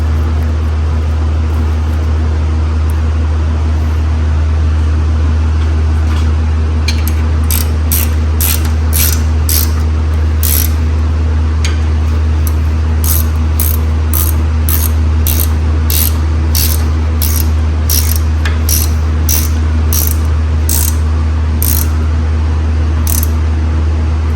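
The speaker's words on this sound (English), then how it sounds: "these are the 18 millimeter bolts. I'm going to tighten these up." A ratchet tightens 18 millimetre bolts, its quick, evenly spaced clicks starting partway through and repeating in bursts over a loud, steady low machine hum; no one speaks.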